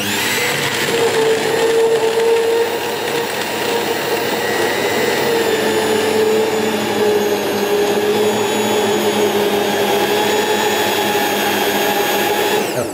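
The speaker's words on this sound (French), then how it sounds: "Je prends ma girafe, j'émulsionne le tout." An immersion blender emulsifies crème anglaise poured over chocolate for a Black Forest cake, its motor whining loud and steady throughout with no talk over it.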